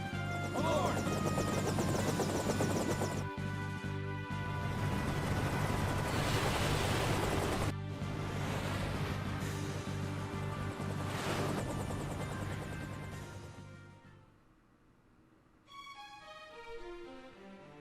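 In the Final Fantasy IV 3D remake, an airship lands at Baron castle with a loud, continuous engine roar that fades out near the end, followed by a quieter game music passage.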